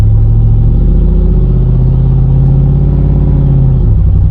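Car engine revving with a slipping transmission, the steady loud engine drone holding its pitch, then dropping suddenly near the end, heard alone with no talk.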